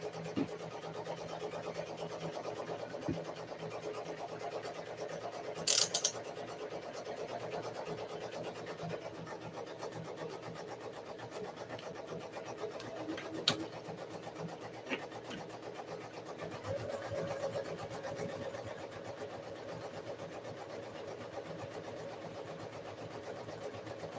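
A Ricoma MT 1501 embroidery machine stitching steadily with a continuous mechanical hum and fine rapid needle chatter, moderately quiet and unbroken, with a few faint clicks and no talking.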